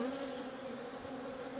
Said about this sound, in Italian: guardate le api